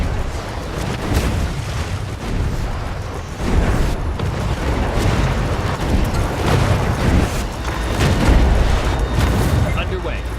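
Heavy artillery fire and explosions from the futuristic city-building strategy game Anno 2205, a continuous dense barrage of booms and rumbling blasts at full loudness, with game radio voices faintly mixed in.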